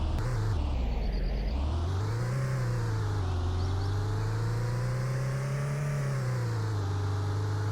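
A parcel delivery van in a video game drives steadily, its engine droning continuously and rising and falling in pitch as it revs and shifts, close and alone with no talk.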